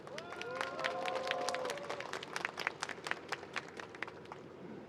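A rally crowd at a labor memorial gathering breaks into applause, with a burst of scattered clapping and cheering whistles, then rhythmic, fairly distant claps that continue steadily.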